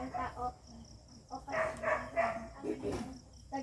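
A dog barks in several short bursts at moderate volume, mixed with voices nearby in a classroom.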